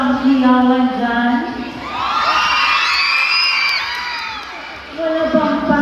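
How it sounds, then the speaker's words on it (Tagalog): Audience at a Bahaghari pageant production number for a 50th anniversary celebration, whooping, shouting and cheering loudly for several seconds, with an emcee's voice before and after the crowd noise. "Wala bang hiyawan dyan?"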